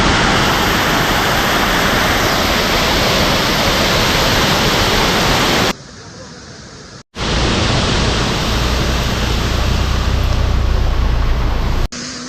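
Rushing water pours continuously at Kirchi waterfall, a loud, dense, close roar of broadband noise that briefly drops away for a moment before surging back, with no voices.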